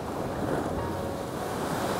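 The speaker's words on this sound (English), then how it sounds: "We're getting good waves out there in the distance, but we need a big one to crash over here in the front." Ocean surf washes onto the shore at sunrise, a steady, soft roar with wind buffeting the microphone and no voices.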